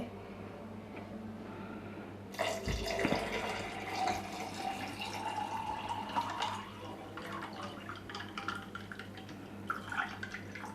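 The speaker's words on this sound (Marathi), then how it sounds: "आता त्यानंतर यामध्ये आपल्याला थंड पाणी घालायचं आहे।" After a couple of quiet seconds, cold water pours steadily into a glass of raw mango panna concentrate with a continuous splashing rush that carries on to the end.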